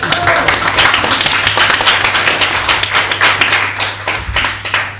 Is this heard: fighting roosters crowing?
no